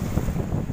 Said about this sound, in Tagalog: Lumakas kasi yung hangin